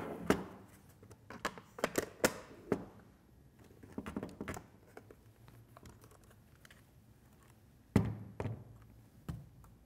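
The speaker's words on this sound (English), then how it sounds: "So the next thing we need to do is just reattach the door." The door of a Bolex H16 film camera is fitted back on with a run of small, close clicks and taps, followed by a firmer clunk as it seats near the end.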